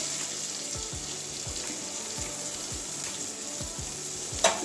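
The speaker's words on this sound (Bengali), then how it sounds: "হালকা ভেজে নেবো ওগুলো" Chopped ginger, garlic and chili frying in butter in a pan for a chilli mushroom dish, a steady bright sizzle with faint clicks of stirring and a small clatter near the end.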